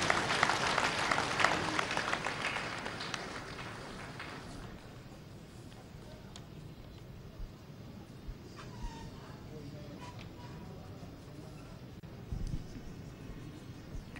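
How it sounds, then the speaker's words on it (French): An outdoor crowd at the Kaya Farmers' Day opening applauds the Burkinabe head of state on his arrival, a loud burst at first that thins to a faint, scattered patter, with voices in the background. "Merci d'applaudir pour le chef de l'État burkinabé"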